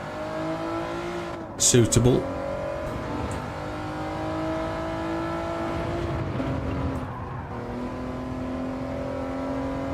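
A race car engine drones and revs steadily in a racing video game, driven without assists in a league; a short burst of speech cuts in near the start.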